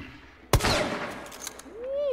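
A single sharp gunshot cracks out in Hunt: Showdown, loud and close, followed by a brief echoing tail and a faint voice at the end.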